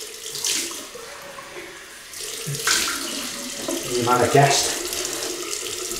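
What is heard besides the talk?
cold water running from a tap into a sink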